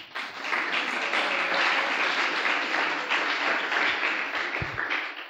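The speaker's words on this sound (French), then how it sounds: "On peut acclamer le Seigneur pour ça." Church congregation at a youth worship service breaking into sustained, loud applause that fills the space evenly for several seconds, with a faint voice or two mixed in.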